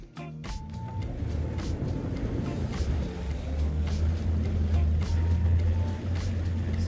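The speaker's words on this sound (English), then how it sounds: "I'll just put high on, and now I've got more acceleration with the engines." Mercury JPO yacht engines rev up as the boat is switched into high mode for more acceleration, a steady low droning rumble that swells louder over several seconds while someone talks faintly nearby.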